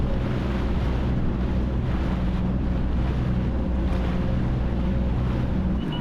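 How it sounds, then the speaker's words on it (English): A WaveRunner crosses open water beyond a harbor through 3 to 4 foot breaking waves and whitecaps in strong, gusty wind, giving a steady, loud roar of engine, water rush and wind buffeting with no letup. "We were greeted by 3 to 4 foot waves, with many of them starting to break and form into large whitecaps"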